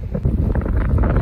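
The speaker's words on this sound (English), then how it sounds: "Windy again, unfortunately," Steady wind buffeting the microphone at the St Lucia estuary, a low rumbling roar that fills the whole short clip without pause.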